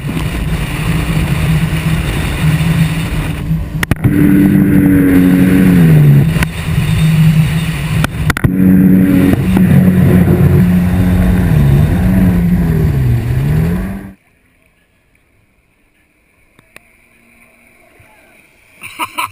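A jet ski engine running on water during a jump session: loud, close engine drone with rising and falling revs and splashing for about fourteen seconds, then it cuts off, leaving near silence.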